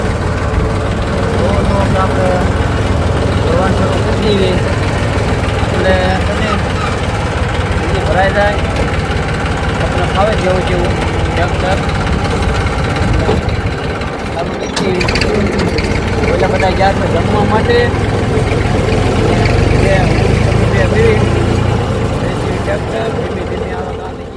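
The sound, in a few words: tractor engine running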